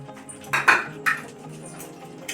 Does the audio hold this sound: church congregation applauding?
no